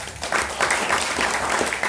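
Audience applause at a Maulid Nabi religious lecture, a dense burst of clapping from a crowd, loud and continuous for two seconds.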